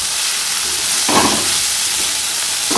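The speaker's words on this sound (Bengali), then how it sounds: "এই সবজিগুলো দিয়েই ভাজা করছি" Vegetables fry in a pan with a loud, continuous sizzle and hiss, swelling in brief bursts as the pieces are stirred.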